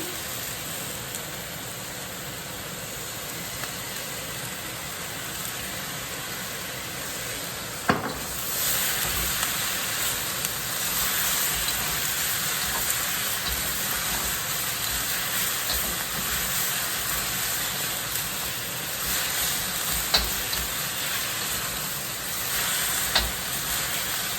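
Cabbage sizzles continuously in a hot pan after soy sauce and cooking wine go in, a bright, steady hiss with occasional sharp pops and a brief louder burst early on, no voices present.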